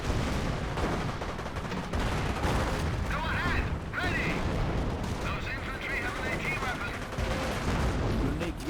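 Dense, continuous gunfire fills a Company of Heroes video game battle with American rifle squads and engineers against a German G43 squad. Rifle shots and bursts overlap with booming impacts, and a voice talks underneath the clamor.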